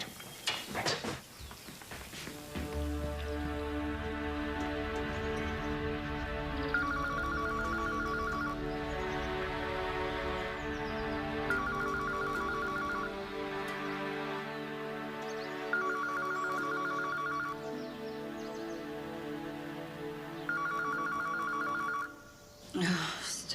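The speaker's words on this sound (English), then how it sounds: "Stop that phone from ringing" A telephone rings in a couple's home, giving several evenly spaced rings over steady background music that plays throughout.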